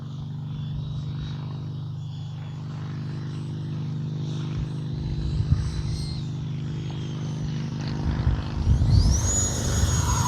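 Freewing F-22 Raptor radio-controlled jet with an 80mm electric ducted fan in flight, a thin steady fan whine over low rumble that swells and climbs sharply in pitch near the end; no one speaks.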